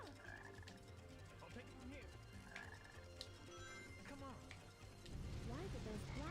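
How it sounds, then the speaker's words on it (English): Black frogs croak repeatedly in the video game Sonic Heroes, their calls rising over game music and effects while a player talks, with a louder burst of croaking near the end. "Why did those black frogs do this?"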